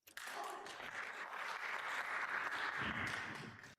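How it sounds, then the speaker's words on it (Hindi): A full hall erupts in applause, a dense, steady wash of many hands clapping together that holds for a few seconds before stopping abruptly. "क्या आपने पूरे हॉल की तालियां सुनी?"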